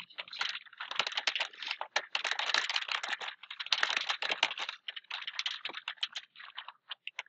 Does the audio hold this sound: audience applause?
no